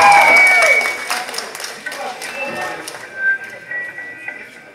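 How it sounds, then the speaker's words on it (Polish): Applause from a concert crowd for a band's singer, a burst of clapping that starts loud and thins out over a few seconds, mixed with a voice and some tonal ringing from the stage. "wielkie brawa!"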